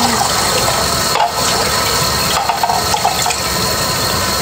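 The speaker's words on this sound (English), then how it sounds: "I'm washing the dishes for her." Dishes being washed at a friend's kitchen sink, with loud, steady running water rushing close by without pause and no talking.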